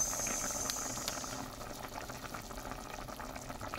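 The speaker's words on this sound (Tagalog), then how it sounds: "Ayan, kulong-kulo na siya." Chicken sinigang broth with long green chilies and long beans at a rolling boil, a steady bubbling wash throughout with a brief higher hiss at the start, no voices.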